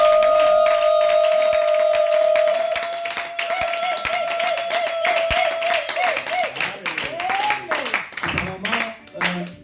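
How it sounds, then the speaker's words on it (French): A church congregation claps rapidly and loudly in praise, dense rhythmic hand claps layered with cheering voices and a sustained sung or shouted tone, the crowd noise thinning into scattered claps and calls near the end. "J'aimerais qu'on acclame vraiment le Seigneur très fort"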